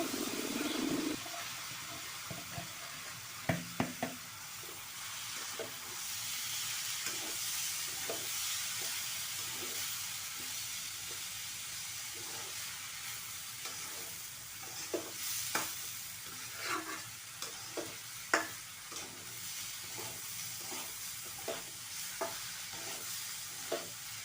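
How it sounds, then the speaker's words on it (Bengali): Washed rice and lentils are stir-fried in a pan for bhuna khichuri with a low sizzle, while a spoon scrapes and clinks against the metal again and again. "একটু চাল ডাল দিয়ে দিলাম। এখন একটু ভাজা ভাজা করে নেব।"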